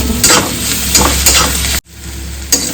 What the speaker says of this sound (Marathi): आपण हा बनवलेला हिरव मिरचीचा ठेचा घालते थोडासा मिक्स करून